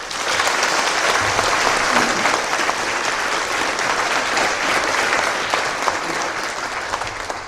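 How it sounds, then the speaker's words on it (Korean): Sustained applause from a large church congregation during a worship service, dense and steady clapping that fills the space evenly throughout without letting up. "우리 하나님께 영광과 찬양의 박수 한번 합시다"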